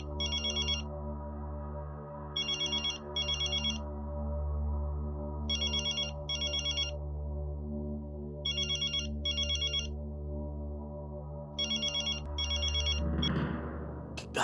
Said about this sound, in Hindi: इस वक्त टप्पू का फोन?